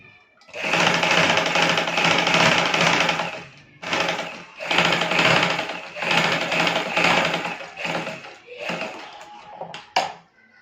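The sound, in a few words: sewing machine stitching a ruffle frill on a baby frock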